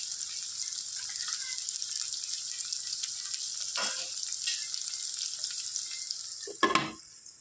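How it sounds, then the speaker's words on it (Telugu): Onions and chillies fry in a pan with a steady, bright sizzle throughout, broken by a short scrape near the middle and a louder stirring clatter near the end. "దీన్ని కొద్దిగా ఫ్రై చేసుకుందాం ఫ్రెండ్స్ ఆనియన్స్ మిర్చి"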